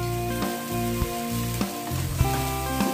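Flattened rice poured into a hot pan of turmeric and chilli powder fried in oil, giving a steady loud sizzle with scraping stirs, no talk.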